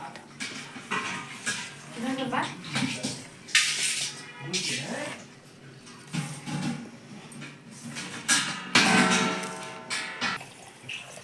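Gobi manchurian batter mixed with water in a bowl by hand, with wet squelching and repeated knocks of a bowl and utensil in uneven bursts while a person talks throughout.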